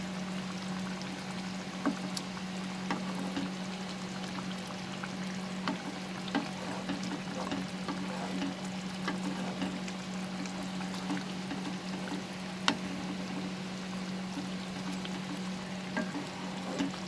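Fresh cream being stirred into an egg curry frying in a pan, a steady soft sizzle with a low hum beneath and occasional light scrapes and taps of the spoon, continuous and close.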